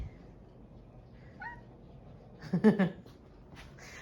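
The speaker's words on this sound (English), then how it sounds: "My kitty is making all kinds of noise." A cat lets out a short, faint meow, then a louder cluster of mewing cries a moment later, close by in a quiet room.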